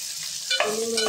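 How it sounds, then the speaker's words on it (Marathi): Prawns and tomato fry in a pan for a spicy Agri Koli style prawn curry, giving a steady close sizzle with a short scrape of stirring partway through. "टोमॅटो चांगला परतवून घ्यायचा आहे"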